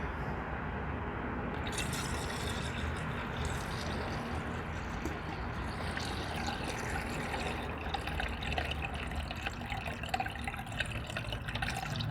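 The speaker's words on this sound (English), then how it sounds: "And then I'm going to do some distilled water." Distilled water pours steadily into a car's cooling system during a coolant flush and thermostat replacement, a continuous close splashing rush lasting about twelve seconds with no talking.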